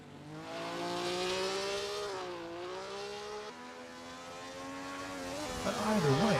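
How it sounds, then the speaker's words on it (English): Race car engine in a sim racing game at the Feldbergring circuit, a high, strained roar that holds and shifts pitch through the gears and swells near the end, moderately quiet. "it is glorious just hearing the engine roar and seeing the drivers slide the car around the corner there"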